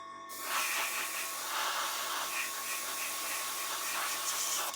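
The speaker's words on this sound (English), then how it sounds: "Definitely spraying a bit better now." A spray gun laying down hobby paint from an ICM paint set gives a steady, soft airy hiss, close and continuous, with slight pulsing in the flow and no voices.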